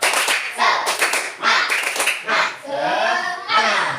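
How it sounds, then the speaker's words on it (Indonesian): Children in an Indonesian primary school class perform a rhythmic spirit clap, bursts of group clapping in a patterned beat mixed with young voices chanting along, loud and close. "Sekali lagi tepuk semangat."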